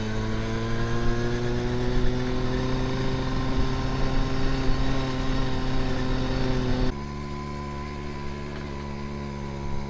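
A 1978 Honda NC50 moped bombing down a hill, with a steady buzzing engine drone and rushing wind, loud and close throughout; partway through the tone drops and the sound turns quieter.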